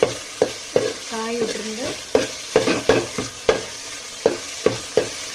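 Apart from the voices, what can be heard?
okra frying in a pan for sambar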